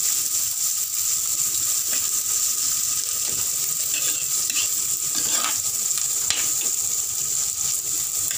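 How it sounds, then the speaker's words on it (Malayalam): Finely sliced shallots frying on a low flame for a Kerala-style fish curry, a constant dense sizzle with occasional stirring scrapes, close and steady throughout with no talking. "8 to 9 ചെറിയുള്ളി ഞാൻ ഫൈനലി സ്ലൈസ് ചെയ്ത് വെച്ചേക്കാം. ലോ ഫ്ലെയിമിലാണ് ഇതൊക്കെ ചെയ്യുന്നത്."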